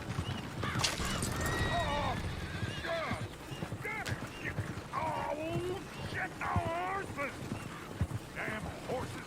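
Horse hooves clip-clopping and a horse whinnying repeatedly on a town street in the Red Dead Redemption 2 video game, fairly close, with characters talking over parts of it.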